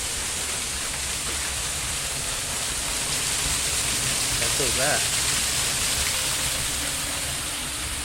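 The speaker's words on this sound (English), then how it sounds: "And there you are. Byfield's little waterfall, they call it." Byfield's little waterfall runs down a rock gully with a steady, close, broadband rush of falling water, and a person briefly speaks over it near the end.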